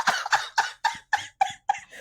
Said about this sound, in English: Oh, she's going to have a coughing fit.